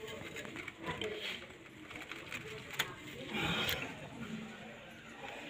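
Pigeons cooing softly at a distance, low murmuring calls under faint background noise, heard quietly and without talk over them.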